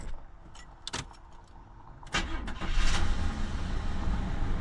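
After sitting 18 years, a 1977 Buick LeSabre's engine cranks with a few clicks and catches, settling into a steady idle, close by.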